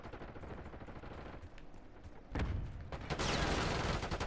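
Video game gunfire during a team mission, with dense, rapid automatic bursts and heavy booms that grow louder and fuller partway through, with no talking over them.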